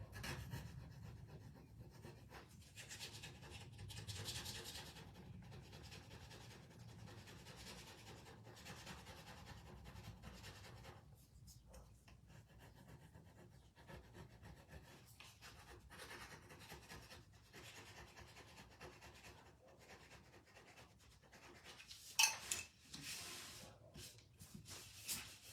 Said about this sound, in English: Let's try to scrape this off.